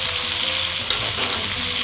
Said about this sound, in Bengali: রসুন দিয়ে দিচ্ছি, পেঁয়াজ কুচি দিয়ে দিচ্ছি,